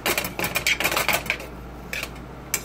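A metal fork clatters and rattles several times in quick succession near a frying pan of onions on the stove, bright close clinks that die away into a quiet hum.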